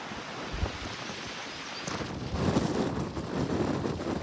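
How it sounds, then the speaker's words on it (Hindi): Strong wind roars and buffets the microphone in heavy gusts, growing louder partway through, with no one speaking. "बहुत तेज़ हवा चल रही है"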